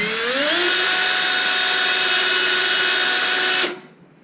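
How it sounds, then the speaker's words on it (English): A power drill fitted with a cleaning brush spins inside copper pipe, whining steadily at high speed for a few seconds, close and loud, then cuts off abruptly. "And that way we'll put it in our drill, tighten up that chuck, and there we go."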